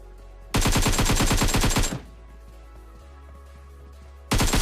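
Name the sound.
gunfire in PUBG Mobile video game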